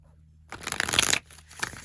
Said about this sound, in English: let's do one more shuffle. We'll cut the deck.